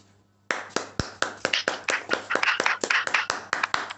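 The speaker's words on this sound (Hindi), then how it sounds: "उनके भी सम्मान में ताली चाहूंगा" A small group claps in honour of a guest during an online success-story meeting, sharp distinct claps in a steady rhythm, fairly close and alone after a quiet start.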